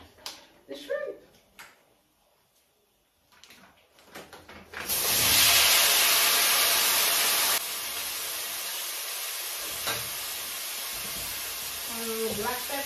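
Shrimp drop into hot oil and set off a sudden loud, steady sizzling hiss that keeps going for several seconds, with a faint voice and soft kitchen clatter around it.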